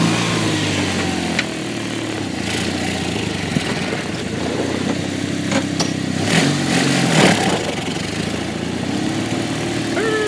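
A homemade dune buggy's engine runs with an uneven, hesitating idle even when warm, a steady loud drone broken by a few sharp pops and a brief rise in revs.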